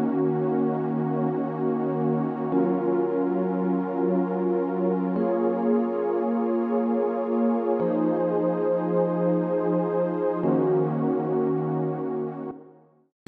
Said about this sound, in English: So the analog wave combined with the e-piano together sounds like this